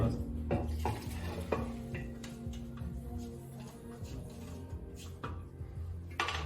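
A spoon stirring a thick Christmas pudding mixture of eggs, treacle and soaked fruit in a bowl, giving close, repeated scrapes, knocks and soft wet squelches in an irregular rhythm with no talking.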